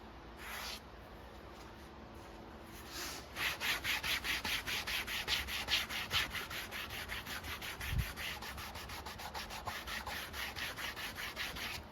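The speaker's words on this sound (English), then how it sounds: "So let's burnish these edges now." Steady rhythmic rubbing strokes burnishing leather edges, back and forth at a quick even pace, close and dry, like a tool being worked hard along an edge.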